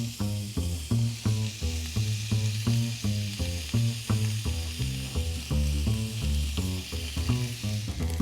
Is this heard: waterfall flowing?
no